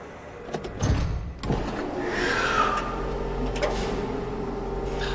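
Cable car ride in the video game Riven: a mechanical rumble and whir of the car in motion, with clunks near the start, a rising whine in the middle, and a steady low drone continuing to the end.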